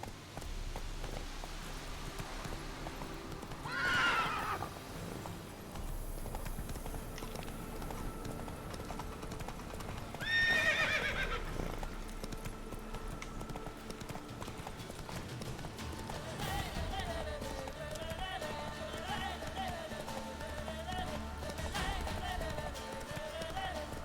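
Roach, the horse in Witcher 3: Wild Hunt, moves along with a soft, steady clip-clop of hooves over a game soundscape, punctuated by a couple of brief louder bursts that may be neighs, at moderate distance.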